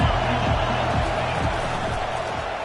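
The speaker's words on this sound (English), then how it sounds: "This crowd trying to make life miserable for this offense." Football stadium crowd roars steadily at a Texas vs Washington college game, a dense, loud wash of cheering noise with no breaks.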